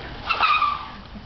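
Jubilee buggy brakes and skids, a brief scraping squeal of tyres lasting under a second, fairly close.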